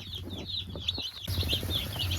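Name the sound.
baby chicks peeping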